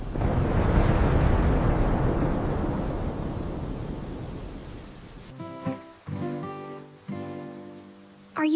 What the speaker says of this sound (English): Do not be scared of the thunder.